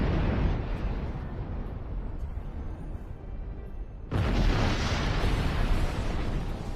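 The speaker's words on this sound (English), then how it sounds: "Watch out for those explosions." Heavy rumbling explosions in Star Trek Online, a sustained roaring boom that swells suddenly louder partway through and keeps thundering without pause.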